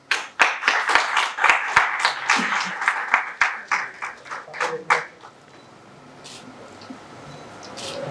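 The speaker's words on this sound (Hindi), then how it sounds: "तो हुमा पैट्रिक के लिए बहुत सी तालियां" An audience at a book launch ceremony claps in a series of distinct, fairly close hand claps that fade into a quieter room after about five seconds.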